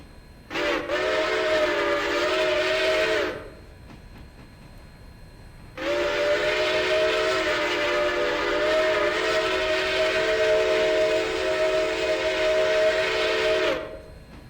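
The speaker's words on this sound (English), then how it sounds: "Hanging off the side of the locomotive, watching your locomotive go by." A steam locomotive whistle in the video game Railroader sounds in two long, loud, steady chime blasts, a short one of about three seconds followed after a pause by a longer one of about eight seconds, with no talking.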